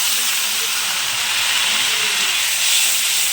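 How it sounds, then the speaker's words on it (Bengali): Onion paste hitting hot oil in a pan while cooking prawns, a steady broadband sizzle and hiss that holds at an even level throughout with no voices. "তো তেল দিয়ে দিলাম, তেলের পর পেঁয়াজগুলো দিয়ে দিচ্ছি।"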